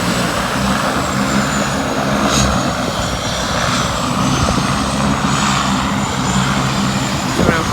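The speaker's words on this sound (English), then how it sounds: "a seaplane has just arrived. Seaplane pulling in." Seaplane arriving at a Maldives island resort, a steady propeller-engine drone that stays loud and constant throughout with no talk.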